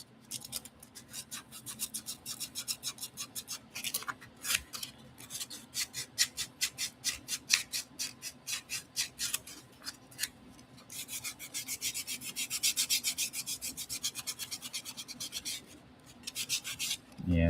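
Steady rhythmic scraping as steel wool is rubbed back and forth over metal to burnish it, close and fairly quiet, with a brief pause midway.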